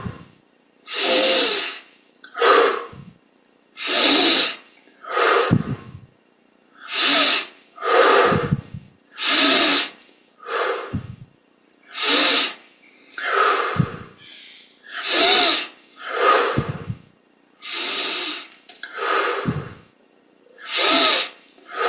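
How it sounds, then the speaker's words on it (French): Slow, deep breaths during a guided meditation breathing exercise: about a dozen loud, close, airy inhales and exhales repeat in a steady rhythm with brief quiet gaps between them. "Maintenant, prenons ces grandes respirations"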